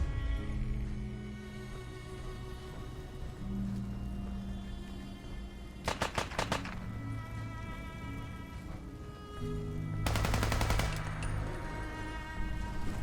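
Gunfire in Fallout 4 comes as two short, rapid bursts of shots, one midway and one near the end, over a quiet backdrop of tonal game music.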